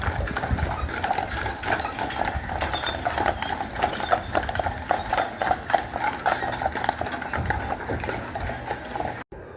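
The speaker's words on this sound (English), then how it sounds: "That's Buzz and Woody, those two horses." Two horses, Buzz and Woody, clip-clop steadily along a residential street on Mackinac Island, hooves loud and close with a continuous rhythmic beat and a faint rumble behind.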